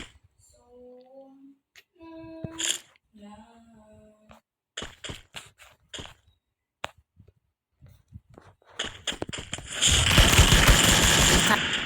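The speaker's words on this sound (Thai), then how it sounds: "มันกระหน่ำยิงเลยอะคืออะไรวะ" Heavy automatic gunfire in a shooter video game, bursting loud and dense near the end after scattered shots, clicks and voiced game or speech sounds earlier.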